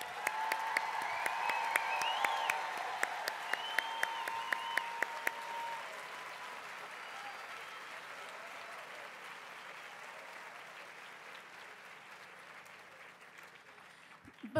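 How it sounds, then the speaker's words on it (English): A ceremony audience applauds the master's and doctoral graduates in the social sciences at a Villanova commencement. The clapping is steady and fairly distant, a broad wash of applause that holds throughout and fades slightly toward the end. "I'd like to invite you to applaud the graduates of our programs in social"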